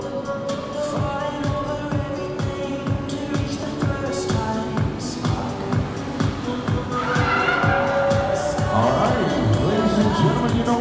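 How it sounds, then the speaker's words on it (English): A Subaru WRX swings through a J-turn stunt at the Singapore Motorshow, its engine revving in rapid pulses with tyre squeal building near the end while a crowd murmurs and cheers in the background. "Russ will perform a signature J-turn maneuver with the Subaru"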